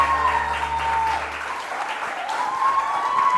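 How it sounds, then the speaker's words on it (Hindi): A studio audience on a television morning show claps steadily for a guest, a dense, even wash of applause with a musical tone running beneath it throughout. "बाबर के लिए बहुत सारी तालियां"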